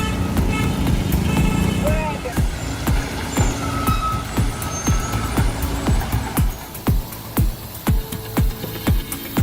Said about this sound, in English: this heavily overloaded truck navigates treacherous GAT downturns